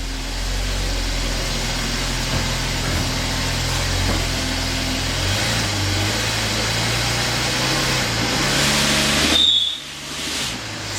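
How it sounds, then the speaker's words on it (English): A Mercedes car revs while backing up, its engine droning steadily with a rising whine, then a brief high squeal near the end before the sound drops away. "Spinning the tires."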